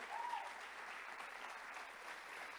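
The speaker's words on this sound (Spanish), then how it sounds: "Ese aplauso para el Señor" Church congregation applauding during a Spanish-language service, a soft, even wash of clapping that sounds distant and fairly faint, continuing steadily without voices.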